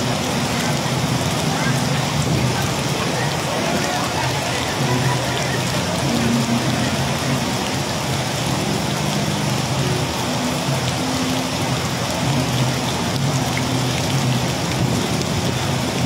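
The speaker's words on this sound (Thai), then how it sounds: "ผมมาตากฝนกันมานะครับ" Steady heavy rain pours down during an outdoor Buddhist walking procession, the Dhammayatra of faithful devotees, a dense continuous hiss of drops on surfaces that stays loud and even throughout.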